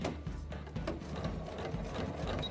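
A sewing machine stitches fabric in reverse and then forward along a plain seam, a soft, steady, rhythmic mechanical hum with quick needle thuds, fairly quiet and close, no speech.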